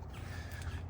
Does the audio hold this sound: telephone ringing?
no